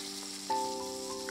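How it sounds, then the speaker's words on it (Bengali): Eggplant frying in hot oil, the same oil just used for fried lentil dumplings, gives a steady close sizzle that swells louder halfway through as the pieces go in, then keeps crackling evenly. "বড়িগুলো তোলা হয়ে গেছে, ওই তেলেই আমি বেগুন ভেজে নেব"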